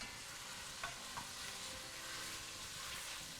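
Dry quinoa stirred into a pan of olive oil, garlic, onion, carrots and peppers gives a steady, soft sizzle with a couple of light scraping clicks near the start, heard close up and without any talk.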